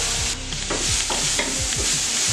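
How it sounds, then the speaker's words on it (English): Chopped onions and pepper sizzle steadily in olive oil in a pan while being stirred, with a continuous frying hiss and repeated low scraping strokes from a utensil, close and fairly loud, no voices. "we're going to saute them for a few minutes until they go nice and soft"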